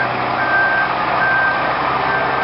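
A large truck backing up beside a park and into a street sounds steady reversing beeps that repeat without a break, loud and close over low engine rumble.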